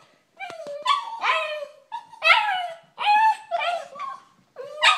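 Dogs whine and yip in eager bursts, high drawn-out whimpers alternating with short barks at close range, several separate outbursts with brief pauses between them, no talk heard.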